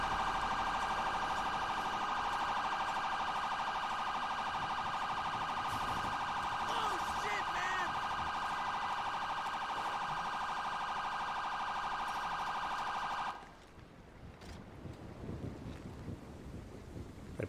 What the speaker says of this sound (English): That sounds like the ambulance is arriving on scene.